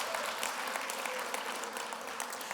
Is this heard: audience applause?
yes